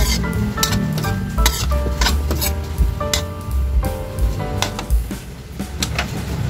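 Chopsuey with pork liver and quail eggs being stirred in a pan after liquid seasoning goes in, rapid clattering spatula scrapes and taps over a steady sizzle, close and busy, no talking.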